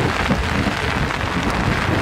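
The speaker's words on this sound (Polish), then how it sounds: "Mamy burzę" Steady, dense rain hiss from a thunderstorm on Mount Kazbek fills the whole stretch, a continuous wash of downpour with no voices and no distinct thunderclap standing out.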